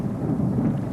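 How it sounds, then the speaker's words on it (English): Low, rolling thunder from a summer storm rumbles as one continuous, heavy roar, fairly loud and without voices. "The summer storm, which had been brewing behind the mounting heat, threatened to break."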